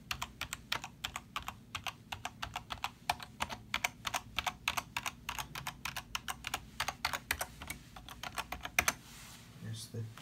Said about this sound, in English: I'm gonna press a few keys just to so you can see.